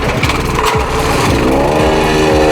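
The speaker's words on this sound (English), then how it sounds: "Get the whacker over that just to compact some of that down." A plate compactor working the ground runs a loud, steady, close engine drone with a rapid vibrating pulse, continuous throughout with no pauses and no talk.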